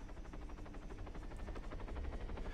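A military helicopter in Arma 3 flies off, its rotor blades thumping in a fast, even chop over a dense engine whine, faint and distant throughout, with no voices.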